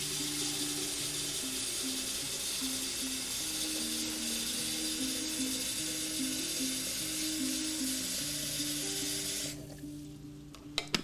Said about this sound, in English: this is going to be kind of noisy as the kettle comes to a boil